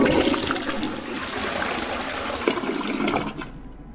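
A toilet flushes in the video game 12 Minutes, a steady loud rush of water that swirls for a few seconds and then cuts off abruptly.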